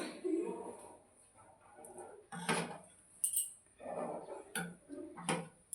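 A spoon stirs date palm jaggery rice pudding made with Tulsi Bhog rice in a pot, giving intermittent scraping and clinking strokes at close range, with soft speech in between.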